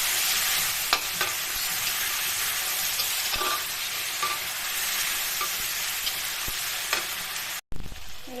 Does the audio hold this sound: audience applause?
no